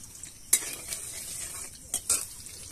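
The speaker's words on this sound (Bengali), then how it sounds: "এখন সরিষার তেল দিয়ে দিন এটা কিন্তু সরিষার তেল দিয়েই করবেন তবেই টেস্ট হবে গোটা জিরে দিয়ে দিন" Whole cumin seeds hit hot mustard oil in a pan, giving a soft steady sizzle broken by a few sharp stirring clinks and scrapes, close and fairly quiet with no talking.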